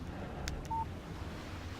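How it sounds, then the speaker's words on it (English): A single short beep marks an incoming text message on a phone in the Alan Wake video game, faint over a low windy outdoor ambience. "Text message from Barry."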